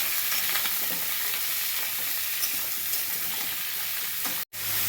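Eggplant and potato pieces fry in a pan, giving a steady, close sizzle with faint stirring scrapes that runs without pause and cuts out briefly near the end.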